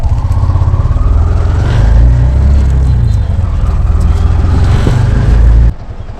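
An auto rickshaw carries passengers, its small engine puttering loudly and close with a fast steady throb and rattling body, then dropping off sharply near the end.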